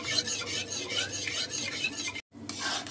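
A spoon stirs thickening jelly mixture in a pan over raised heat, giving a continuous close rasping scrape in steady repeated strokes with a brief pause near the end.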